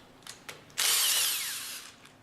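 A power tool briefly whirs while removing the bolts on a pump's front inlet valve plate, a few short clicks and then a single sustained spin of about a second, fairly close and alone.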